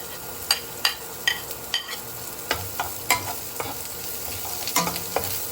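Onions dropped into a hot pan for chicken neck adobo crackle and sizzle steadily, while a spatula scrapes and taps the pan in a series of sharp, close strokes roughly every half second.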